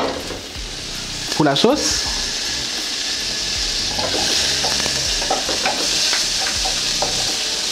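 A knob of butter melts in a hot pan for a burger sauce, giving a steady close sizzle with stirring scrapes throughout while a person talks over it.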